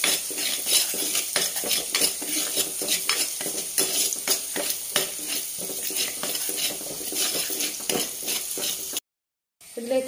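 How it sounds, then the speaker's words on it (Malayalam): Garlic and ginger sautéing in an oil-filled pan for a Kerala-style prawn roast, with steady loud sizzling and repeated scraping stirs of a spatula against the metal, ending in a brief silent gap. "ഈ വെളുത്തുള്ളിയുടെ ഇഞ്ചിയിലൊക്കെ പച്ചമണം മാറണം, അതുവരെയാണ് വഴറ്റി കൊടുക്കണം."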